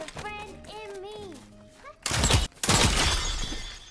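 A crossbow breaking in a video game, heard as a loud shattering crash with a sharp thud, then a second burst of crackling debris, following a stretch of game music.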